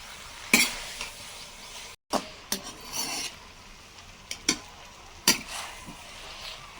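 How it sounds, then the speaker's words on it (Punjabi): Veg noodles are stirred and tossed in a hot pan, with close scraping and rubbing strokes at an irregular pace over a faint sizzle and no voices. "ਚੰਗੀ ਤਰ੍ਹਾਂ ਮਿਕਸ ਕਰ ਲਾਂਗੇ"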